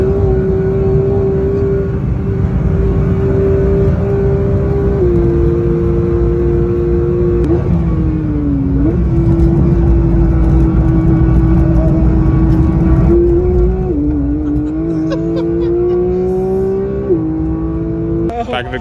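New Porsche GT3 accelerating on the Nürburgring, a loud sustained engine drone heard from inside the car, its pitch stepping through gear changes and climbing again, with a voice speaking over it at times.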